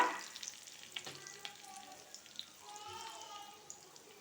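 Curry leaves dropped into hot oil for a no-onion, no-garlic mint potato dish give a light, steady sizzle with soft crackles and a few stirring clicks, close and fairly quiet, with no talking.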